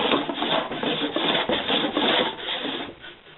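A fibre picker works through llama and alpaca fibre with a loud, continuous rough rubbing and rasping, close by, swelling and easing in short repeated strokes before fading slightly at the end.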